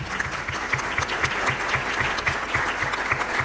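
A church congregation claps together for a brother, steady dense applause filling the room with no voices on top.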